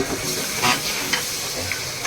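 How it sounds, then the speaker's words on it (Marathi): Loud, steady sizzling of chicken frying in hot spiced oil over a wood-fired clay stove, with faint stirring scrapes and no voices. "फोडणीला देत आहोत आणि हे चुलीवरचं आम्ही चिकन बनवत आहोत"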